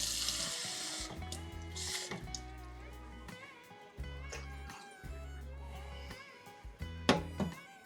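Water pours from a tap into a container alongside cider vinegar for a quail egg pickling brine, a faint splashing flow that starts and stops in several short bursts with kitchen clatter.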